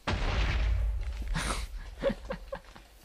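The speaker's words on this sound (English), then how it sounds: "I'm going to have to get used to just hearing random creeper explosions" A deep, booming Minecraft creeper explosion rumbles up close and fades, followed by faint scattered thuds and pops.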